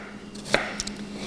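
A knife chops food on a board in a kitchen, giving one sharp loud chop followed by two lighter taps, close up with no talk.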